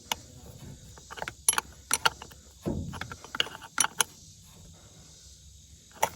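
A tool works loose a starter cable bolt on a tractor with sparse, sharp metallic clicks and ticks separated by quiet gaps, plus one brief low scuff midway.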